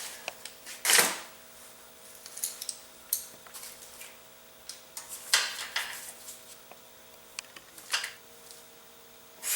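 Valve cover bolts on a Honda CB360 cylinder head are tightened by hand, giving faint, close metallic ticks and clicks of a wrench at irregular intervals with quiet gaps between.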